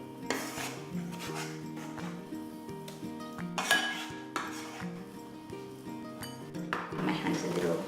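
A spoon clinks and scrapes as mashed aubergine mutabal goes into a bowl, giving a few sharp kitchen knocks over steady background music.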